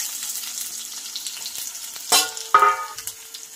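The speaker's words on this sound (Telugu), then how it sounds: "కొంచెం జీలకర్ర, కొంచెం ఆవాలు, ఒక 3 ఎండుమిర్చి వేస్తున్నాను చూడండి" Cumin, mustard seeds and three dried red chillies fry in hot oil, a hissing sizzle that jumps into two sharp crackling bursts as the spices hit the pan; no voices.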